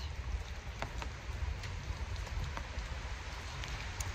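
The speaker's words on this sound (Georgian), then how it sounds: "მოვხსეირნებთ. წვიმის ქვეშ." Steady rain falling on a small, quiet street with no cars, a continuous close hiss of drops on the pavement with a few sharper patters standing out, no voices.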